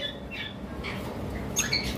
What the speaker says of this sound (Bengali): আর নিচে একটা লুটিনো পিসপেসের পেয়ার রয়েছে।